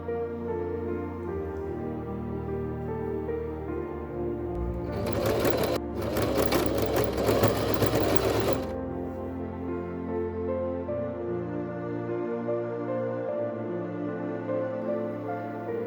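A sewing machine stitches pleats into a dress in one steady burst of about three seconds. It rises over soft background music, which continues alone before and after.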